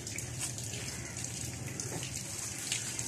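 Light rain falling steadily outdoors, a soft continuous hiss with scattered drip patter, fairly close, with no voices.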